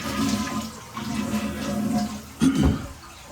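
An older household toilet flushes nearby in a bathroom during a house inspection, a steady rushing swirl of water that surges again toward the end.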